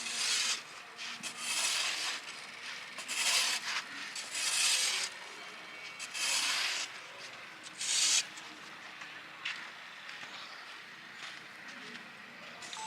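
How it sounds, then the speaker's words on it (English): A shovel spreads dry soil across the ground where bricks will be made, giving repeated rough scraping and rasping strokes at moderate loudness, spaced every second or two, with faint background noise. "he uses a shovel to spread dry soil evenly across the surface."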